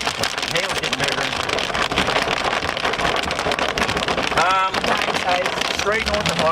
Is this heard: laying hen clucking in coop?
no